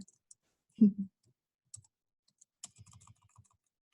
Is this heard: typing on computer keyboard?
yes